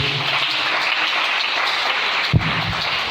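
A church congregation applauds to acclaim the Lord, a dense, continuous wash of clapping from many hands that holds steady throughout, with one brief thump near the end.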